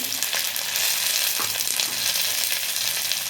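Chopped garlic, chili and tomato hit hot oil in a frying pan while cooking egg tarka, giving a steady, close, even sizzle with faint crackles throughout and no talking.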